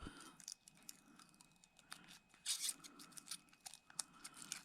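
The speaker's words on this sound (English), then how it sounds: "There's the solar panel. Peel that off." Protective film is peeled from a small solar panel on a tire pressure monitor, quiet close crackles and crinkly tearing in short irregular bursts with no talk.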